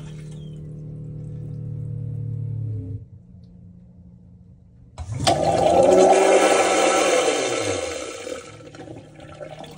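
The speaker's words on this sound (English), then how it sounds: "Now when I click quick flush," Quick flush of a Jabsco toilet: a low pump hum stops, then after a pause a loud rushing surge of water and motor whir starts and gradually tapers off, close by and without talk.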